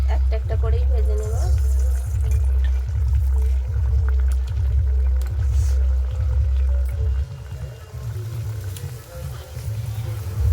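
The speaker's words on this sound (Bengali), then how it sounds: "তেল গরম হয়ে গেছে, এবার দিয়ে দেবো একটা একটা করেই ভেজে নেব।" Kachori, stuffed with green peas in a village Bengal style, frying one at a time in hot oil in a kadai, a steady bubbling sizzle with a low rhythmic rumble underneath, heard close and continuous.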